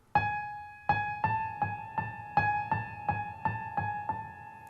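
Piano notes struck in quick clusters, a few separate hits followed by runs of even notes, each ringing briefly; clear and close with no talking.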